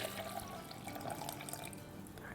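Water is poured into a blended cucumber drink mixture in a kitchen, a soft, faint, continuous splashing trickle lasting a couple of seconds with no talking.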